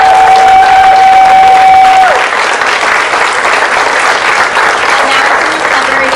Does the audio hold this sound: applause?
yes